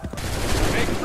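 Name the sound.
musket volley fire in Assassin's Creed 3 video game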